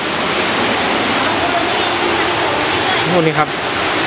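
Broadband rushing of a waterfall at Ban Mae Kampong in the rainy season, a steady roar filling the whole clip while someone speaks briefly near the end.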